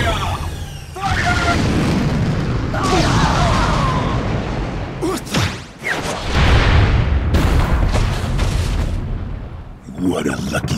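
Warships open fire in the video game Asura's Wrath, heavy booming blasts rolling together in loud, dense bursts, with several sharp impacts and pauses between volleys, mixed with game score and voices.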